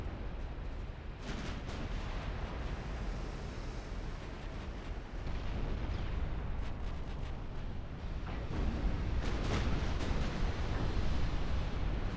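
Battleship guns firing at very long range in the naval strategy game Ultimate Admiral Dreadnoughts, with sustained rumbling gunfire and distant booms over a dense, continuous battle roar.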